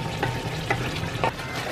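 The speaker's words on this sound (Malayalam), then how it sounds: "ചിക്കൻ നന്നായിട്ടൊന്ന് ഇളക്കി കൊടുക്കണം" Chicken with onion, ginger and garlic stirred and fried in oil, a continuous close sizzle with three rhythmic scraping strokes of a spoon, no speech.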